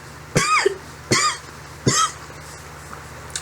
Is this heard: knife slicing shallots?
no